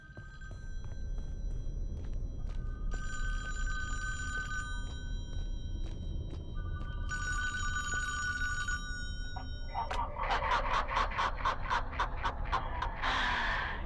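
Telephone rings in an Xbox One virtual cabin game, two long electronic ring bursts under a steady low background hum, followed by a brighter, busier rapid trill near the end.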